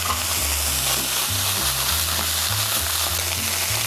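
Tomato paste frying and being stirred in a pan for Ghanaian meat pie filling: a constant close sizzle with scraping stirs, heard alone with no talk.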